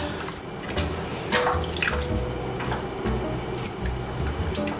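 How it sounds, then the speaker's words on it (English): Water pours into a pot of vegan chili with tomato paste and is stirred, a continuous close splashing and sloshing with small drips and clinks throughout. "then you'll add 2 cups of water, and you'll just stir it up."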